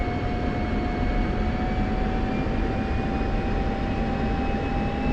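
A simulated military jet engine roars at military power for takeoff on a night training flight, a loud steady roar with a sustained tonal whine that holds unbroken throughout, with no voices.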